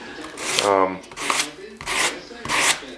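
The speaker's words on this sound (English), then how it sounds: "One thing I was always taught when you sand formica is you sand the direction that it's sticking." Formica on kitchen cabinetry being hand-sanded with 150 grit sandpaper, four close rasping strokes in a steady rhythm with brief pauses between them.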